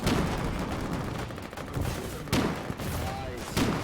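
Gunfire in the war game Foxhole during frontline fighting, dense rattling fusillades with several sharper loud reports, near and continuous, and voices talk over it.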